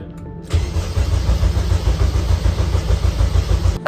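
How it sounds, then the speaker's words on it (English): A turbo Honda engine catches after a brief moment of quiet and settles into a loud, steady running rumble, close up, with no talking. "With all that working, the car should start now."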